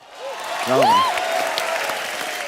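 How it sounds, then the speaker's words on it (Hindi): Studio audience applauding on a Hindi comedy talk show set, a steady wash of clapping that swells and holds at moderate loudness, with a voice briefly speaking over it near the start. "एक बार जोरदार ताली भिड़ो लोग"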